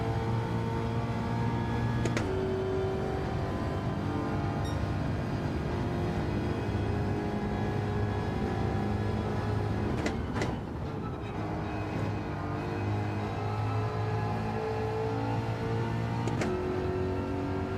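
A car engine pulls uphill in third gear on a track, a steady, loud droning note with a few abrupt shifts in pitch, and no speech.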